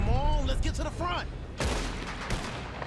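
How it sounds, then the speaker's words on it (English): Gunfire in Red Dead Redemption 2 bursts out in a loud volley partway through, following a stretch of speech, with the shots ringing out and decaying under the mix. "Bro, I'm shooting people"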